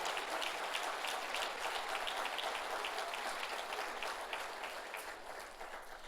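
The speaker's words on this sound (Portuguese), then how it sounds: "Você pode aplaudir o Senhor em nome de Jesus?" A church congregation applauds steadily, a dense even wash of many hands clapping at moderate distance that thins slightly toward the end.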